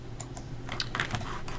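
Computer keyboard typing, a quick cluster of sharp key clicks over a faint steady hum, close and fairly quiet.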